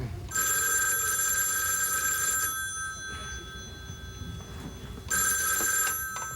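A telephone bell rings loud and close in two long rings separated by a quiet pause, with faint room noise in between.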